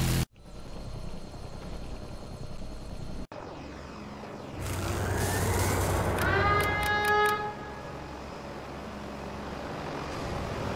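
A helicopter in the C&C Generals Zero Hour strategy game, heard as a steady, loud rotor and engine drone. Rising whining tones and brief bright chirps sweep over it midway, and no voices are present.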